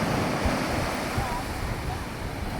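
Sea waves washing onto a beach at Payyambalam, a steady broad roar of surf with wind across the microphone, continuous and fairly loud.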